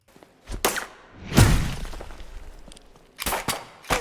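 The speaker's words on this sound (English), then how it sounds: "their sounds are basically their gunfire" Several sharp, loud bursts of enemy gunfire in a video game, with echoing tails, spaced irregularly with quieter gaps between shots.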